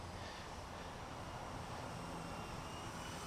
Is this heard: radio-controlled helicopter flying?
yes